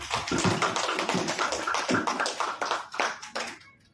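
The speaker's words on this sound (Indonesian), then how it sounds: "Kita kasihlah tepuk tangan untuk guru penggerak." A small audience at a teachers' gathering claps in sharp, uneven bursts that thin into a few scattered claps before fading out.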